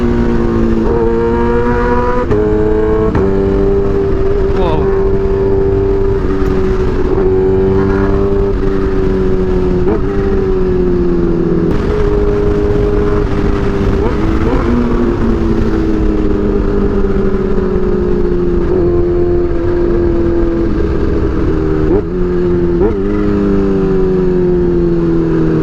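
Kawasaki Ninja H2 motorcycle engine revving at low RPM, loud and close, with repeated throttle blips rising and falling over a steady aggressive drone, no talk.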